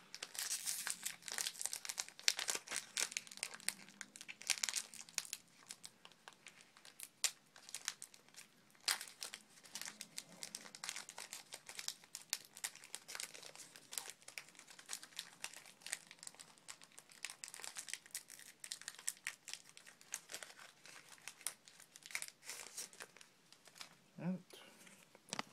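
Pokémon Plasma Freeze booster pack wrappers crinkle and tear close up, a long run of dense, irregular plastic rustling and crackling, with a person talking quietly at times.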